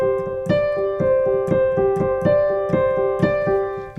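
Piano played quickly with both hands, the left hand on single bass notes: steady evenly spaced struck notes about twice per second with sustained chords ringing over them, close and clear, no voices.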